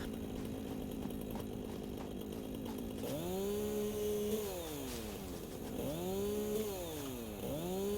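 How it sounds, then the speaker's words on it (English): A big chainsaw in the video game Satisfactory idles with a steady buzzing drone, then revs hard several times in rising and falling whines, loud and close. "Jesus, a big chainsaw."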